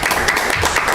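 Steady applause fills a town select board meeting in Shaftsbury, a dense, even patter of many hands clapping that lasts under a second.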